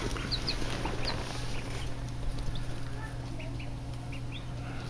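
Baby chicks and ducklings in a brooder, faint high peeps scattered over a constant humming background drone, soft and somewhat distant.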